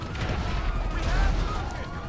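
Explosions and heavy gunfire in Grand Theft Auto Online, a loud continuous booming clatter with low rumble, while a player's voice is heard over it.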